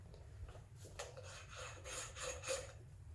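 Tool scraping excess ground coffee off the top of an espresso basket on a Breville Barista Express BES870, a few soft rasping strokes close by over a low hum, no talking.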